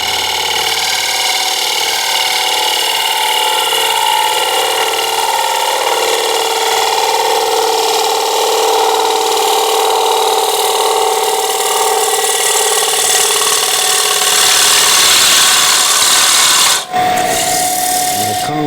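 A freshly sharpened woodturning gouge cuts into wood spinning on a lathe, producing a loud, continuous scraping hiss that holds steady for the whole pass, then stops abruptly near the end as the tool is lifted away.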